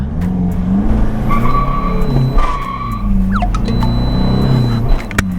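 Tuned Thai van rated around 400 horsepower accelerating hard uphill through the gears, a loud close engine roar rising in pitch, dropping at a gear change, then climbing again, with faint tyre noise.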